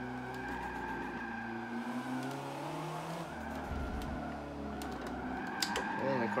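A car in Forza Motorsport 7 on the Spa circuit near Eau Rouge, driven with a Thrustmaster Ferrari 458 Italia wheel, skids and starts to spin out: a steady engine drone with tire squeal, fairly quiet and close.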